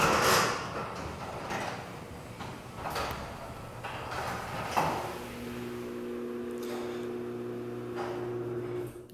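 An overhead garage door opener runs with a low motor hum and steady drone, preceded by a few clunks and rattles as the door starts moving, heard close and moderately loud.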